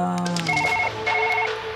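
Phone ringing in the surgery video game Surgeon Simulator, a repeated electronic ring in two bursts over steady game sounds, loud and near.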